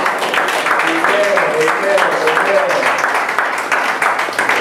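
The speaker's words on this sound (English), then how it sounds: "Let's give the Lord another hand clap of praise in this house" A church congregation claps in praise, a dense, steady patter of many hands filling the room throughout, with a faint sustained tone and a voice murmuring underneath.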